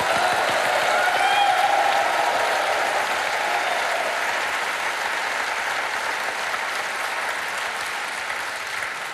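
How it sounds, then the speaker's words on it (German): Studio audience applauding at a televised comedy show, a sustained, even roar of clapping that slowly fades a little over nine seconds. "Applaus, Seifenstein."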